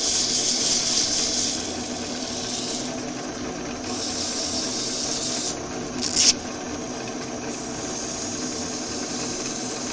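A woodturning piece is sanded on the lathe, giving a steady loud rubbing hiss that drops and returns in several passes, with brief sharper scrapes.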